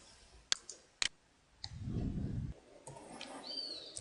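Two sharp computer mouse clicks while confirming a dialog in Revit software, close and distinct, followed by a brief low rumble and faint background noise.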